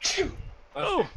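A single sneeze bursts out during a tabletop role-playing session, followed about half a second later by a second sharp sneeze-like burst, with a brief spoken exclamation close by.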